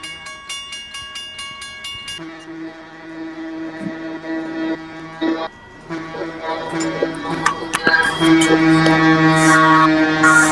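Model train horn on an Erie Lackawanna switcher pulling box cars and a tanker car, several sustained horn blasts over the running rumble of the small train.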